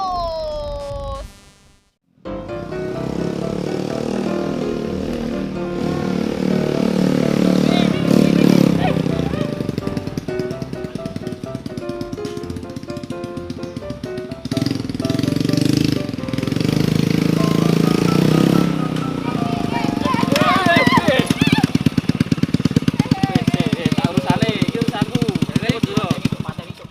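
A worn motorcycle engine idles and revs in a steady clattering putter for a long stretch after a short pause near the start, with people talking over it.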